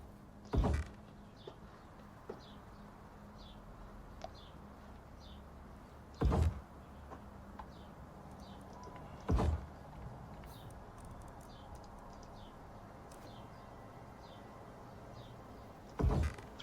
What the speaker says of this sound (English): Throw a door on there, another door on there.